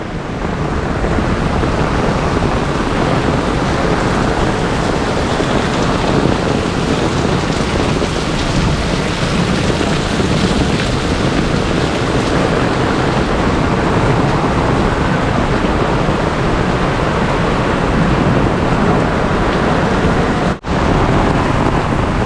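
Heavy, steady rain pours down continuously in a dense roar during a severe storm in Mumbai and Thane, with deep low rumbling of thunder throughout and a brief dropout near the end.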